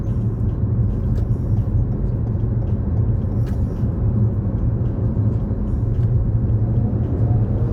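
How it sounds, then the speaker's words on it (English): Steady, loud road rumble and engine drone from inside a moving car as a Mercedes comes up to overtake, an unbroken low roar with faint higher clicks and no talking. "there is a Mercedes which want to overtake me here"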